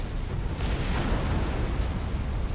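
A battleship volley in Supreme Commander: Forged Alliance, a real-time strategy game: a dense, continuous wash of overlapping explosions and rumbling booms that swells slightly partway through and rolls on without a break.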